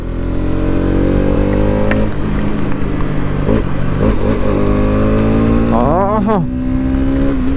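A Bajaj Pulsar NS200 held in third gear on a monsoon road ride, its loud exhaust note climbing steadily with a brief rev swell near the end; a man gives a short exclamation over it.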